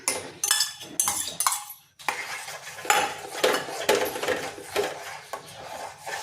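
A spoon scrapes and clinks around a pot of boiling milk, stirring in irregular strokes with metallic rubbing and knocking, close and moderately loud, with a brief pause midway.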